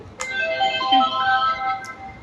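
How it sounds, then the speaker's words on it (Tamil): A short electronic chime from a children's electronic book powering on rings out, a few bright tones in a rising melody, with a faint click at the start and another near the end. "இப்படி சத்தம் கேட்டுச்சுனாலே புக் வந்து ஆன் ஆயிடுச்சுன்னு அர்த்தம்"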